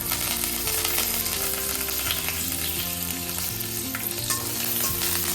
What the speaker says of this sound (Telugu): ఇవన్నీ వేయించుకుందాం.